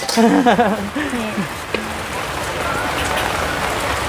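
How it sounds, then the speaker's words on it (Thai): A brief voice at the start gives way to steady rain falling, a dense, continuous hiss that carries on evenly and fairly loudly to the end. "เรามาพร้อมฝนพอดีค่ะ มากับฝน"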